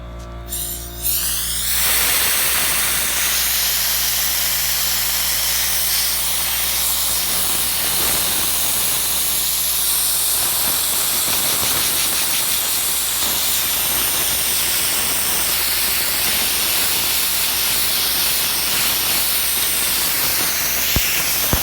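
A powder coating gun sprays motorcycle parts with a steady, loud airy hiss that runs continuously after a brief start, with no talking.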